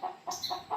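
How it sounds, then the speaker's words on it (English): Several chickens cluck in a quick run of short calls, close by and fairly soft, with no voices over them. "Let me try to get these chickens to shut up."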